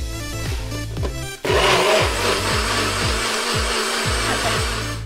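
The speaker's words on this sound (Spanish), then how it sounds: "Ahora sí lo ponemos en el NutriBullet y a mezclar." NutriBullet blender mixing grapes into juice, starting after a few rhythmic thumps and then running as a loud, steady whirring grind close by, with no talking.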